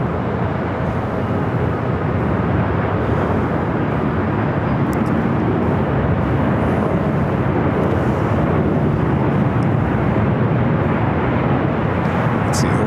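A Delta Boeing 767-300 jet airliner arriving from JFK passes overhead at Los Angeles airport, a loud, steady broadband roar that holds evenly throughout without any talk.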